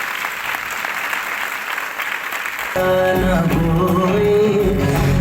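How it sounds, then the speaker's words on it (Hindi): A crowd applauds steadily, the clapping swelling louder partway through as music with a strong beat starts up underneath. "तो मैं आपकी जोरदार तालियों के साथ बुलाना चाहता हूं स्टेज के ऊपर।"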